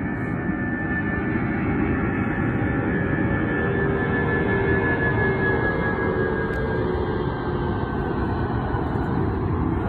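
A jet airliner takes off from an airport in Sweden, its engines producing a loud, steady roar with a high whine running above it, sustained and unbroken throughout.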